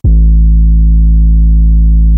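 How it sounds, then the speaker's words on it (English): An 808 bass sample from a sample pack plays a single deep, sustained note, loud and clean with a sharp attack. It holds steadily for about two seconds before stopping, with no voices. "So we're going to use this Cody 808 number 3"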